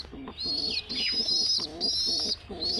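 Pet pigeons coo in low, rhythmic repeated phrases close by, with thin high peeping calls from chicks laid over them.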